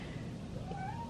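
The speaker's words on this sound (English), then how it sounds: "Oh, that's my cat, if you just heard that sound." A pet cat meows once, a short rising call heard indoors over low room noise, fairly faint and alone without talk.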